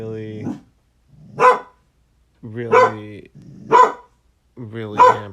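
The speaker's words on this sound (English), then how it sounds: "that's a dog barking at a smoke detector beeping" A dog barks and yowls in loud, separate bursts roughly once a second, reacting to a beeping smoke detector whose short chirps sit faintly beside the barks; a person says a word briefly.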